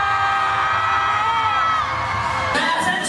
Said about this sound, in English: it's a bunch of people screaming